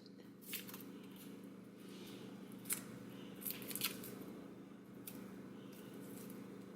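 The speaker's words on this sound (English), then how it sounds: "So I'll peel it open and then give it one cut." A single garlic clove being peeled open and then cut once in a home kitchen, giving a few faint, scattered crisp snips and papery crackles over a steady low hum, with no talking.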